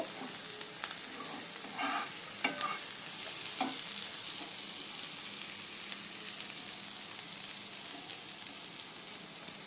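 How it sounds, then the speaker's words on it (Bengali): Onion frying and being stirred in a pan during home cooking, a steady sizzle with scattered clinks and scrapes of the spatula close by, no talking. "পেঁয়াজটা একটু ভাজা ভাজা করে নিব।"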